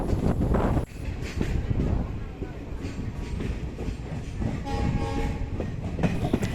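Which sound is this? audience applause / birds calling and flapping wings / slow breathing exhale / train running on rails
train running on rails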